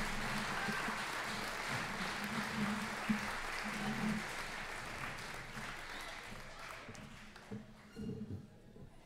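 Audience at a squash men's final applauding the runner-up, a continuous wash of clapping held at an even level for several seconds before thinning out, with voices faintly audible.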